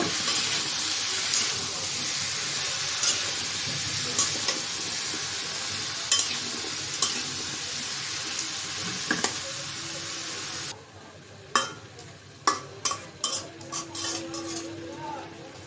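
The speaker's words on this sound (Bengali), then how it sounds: "সবজিটা এখন নাড়াচাড়া দিয়ে দিব।" A mix of snake gourd, pumpkin and potato fries with a loud, steady hiss at first. After that, a utensil clinks and scrapes against the pan in a run of sharp, close strokes as the vegetables are stirred.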